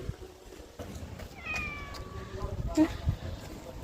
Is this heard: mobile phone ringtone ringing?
no